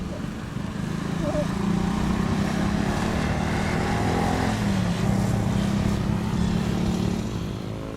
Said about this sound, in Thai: เส้นชัยพร้อมแล้ว ติดเครื่องไปเลย